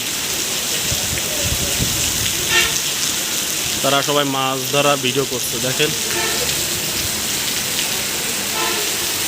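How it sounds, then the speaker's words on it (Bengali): Heavy rain pours steadily over a flooded truck terminal in the monsoon, a dense hiss under someone talking in the middle of it. "কত প্রচুর পরিমাণে বৃষ্টি হচ্ছে"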